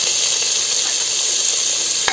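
Tomatoes sizzle steadily as they sauté in a hot pan with onions for mushroom biryani, a continuous close frying hiss with no talk over it.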